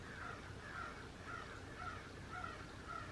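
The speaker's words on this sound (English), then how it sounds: "could you hear the crows that were out there?" Crows caw repeatedly outdoors in a steady series of harsh calls, roughly two per second, faint and distant against a rushing background hum.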